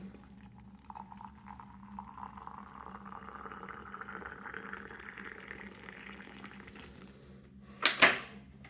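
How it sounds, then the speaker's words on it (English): Water pours in a thin stream into a ceramic teapot with a rising tone as it fills for brewing Pu'er tea, ending in a sharp clink of ceramic near the end. "pour in some tea, or pour in some water"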